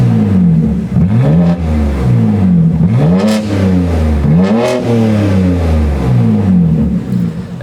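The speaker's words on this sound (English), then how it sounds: "Now, let's just give it a few revs. So let's open up the valve." BMW G80 M3 engine revved repeatedly in comfort mode with the exhaust valve open, several rising and falling rev sweeps in quick succession, loud and close with no talking.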